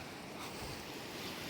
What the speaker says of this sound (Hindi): ये देखो आप झरना जो आ रहा है यहाँ से